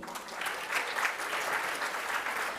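Audience applause at the Africa Prize for Engineering Innovation final, a dense, even wash of clapping from a sizeable crowd for a cohort's pitch, sustained at moderate volume without pause.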